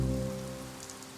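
Rain patters steadily on surfaces at an animal refuge, a brief, close, even hiss over a low droning hum with no voices.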